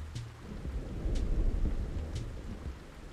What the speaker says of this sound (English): Isn't that rain noise really chill?